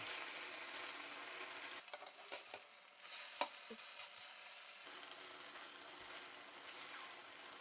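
A cabbage pancake fries in oil in a pan, giving a continuous soft sizzle with a few brief scraping and tapping noises partway through.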